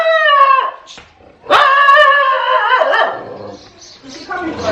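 A street dog near Jodhpur Fort in India gives loud, close, drawn-out barks and whining yelps in several bursts, with a short pause between them.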